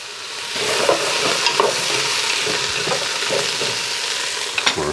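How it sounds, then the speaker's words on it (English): Onions in a pot for homemade chicken soup are stirred while they sizzle, with a steady frying hiss and several clear scraping and clacking strokes from the spoon, close and fairly loud. "I'm going to give my onions a stir."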